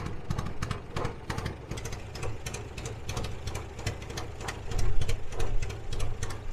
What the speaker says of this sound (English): The old Bug's not running very good. Sounds like it's missing.